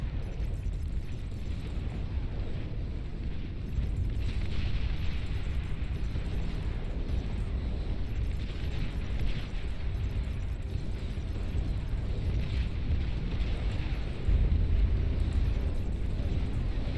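Napalm explosions in a video game make a dense, continuous roar of rumbling blasts with no clear pauses. The sound stays loud and heavy throughout, and a few slightly stronger bursts rise above the steady din.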